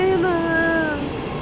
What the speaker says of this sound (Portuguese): Que da hora! O trem.